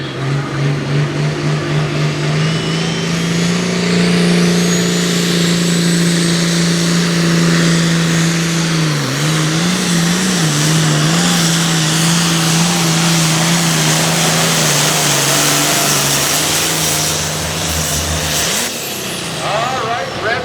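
The 1206 Shed Shaker pulling tractor roars at high RPM during a tractor pull competition. Its loud, sustained engine drone holds steady, then drops away near the end while an announcer talks over it.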